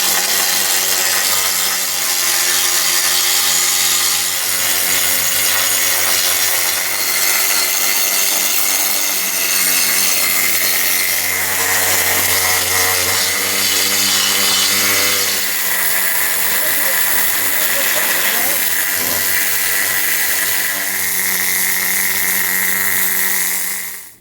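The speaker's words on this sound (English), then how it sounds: "there's still a few more hours worth of needle gunning on the back end of this chassis before we're ready for paint." A needle gun descales the chassis of a 70-year-old London double-decker bus, giving a loud, constant, close-up rattling buzz that hardly changes over the whole stretch.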